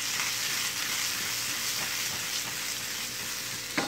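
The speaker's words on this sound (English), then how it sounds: "yellow peppers, mushrooms, tomato. You just kind of saute it a little bit." Yellow peppers, mushrooms and tomato sauté in a pan with a steady, close sizzle and some light stirring scrapes, no voices over it.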